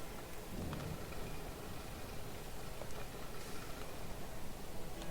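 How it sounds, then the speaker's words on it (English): Steady rain and rumbling thunder from a stormy weather effect in the park-building video game Parkitect, a continuous broadband wash that holds at an even, moderate level throughout with no voices. "unfortunately it started raining while I was coughing"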